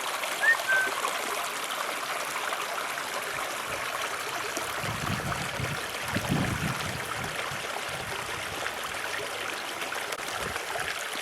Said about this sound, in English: Murray Canyon Creek, much diminished at the beginning of May 2014.